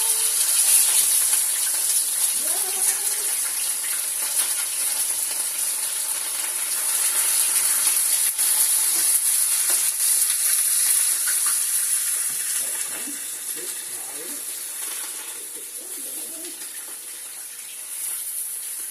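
Seasoned fish laid in a frying pan gives a steady, bright sizzle and hiss that lasts the whole time, with faint soft clinks and movements under it and no talk.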